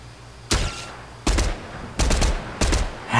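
In Fortnite, a weapon fires at a tree in short, loud, evenly spaced bursts: four distinct volleys, each with a cracking attack and brief decay, and a fifth starting as it ends.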